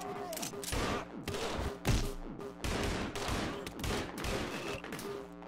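Shotgun blasts and heavy combat noise from the video game Anger Foot: a loud, dense run of booming shots and thuds over a busy game soundtrack, with a voice talking briefly among the shots.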